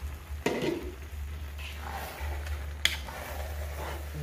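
Spicy noodles fry in a pan with a low steady sizzle and a constant low hum, broken by a few sharp scrapes and clinks as they are stirred. No talking.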